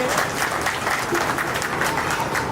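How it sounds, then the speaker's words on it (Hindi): Steady, dense clapping from an audience at a gathering honoring a speaker, loud and continuous throughout with a faint voice underneath. "एक बार सतीश भाई के लिए जोरदार ताली बजाकर"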